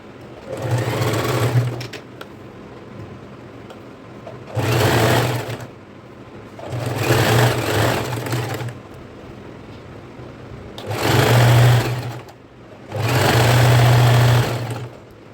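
A sewing machine stitches a fall onto a saree in five loud, close bursts of rapid whirring, each a second or two long, separated by brief quiet pauses.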